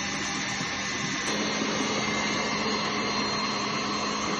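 An electric mixer whips eggs until fluffy and creamy for an orange semolina cake, giving a steady, loud whirring drone that holds without a break.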